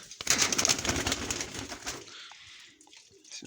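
A chocolate-marble Baku pigeon coos close by, a soft rolling call that fades out, followed by near quiet with faint rustling.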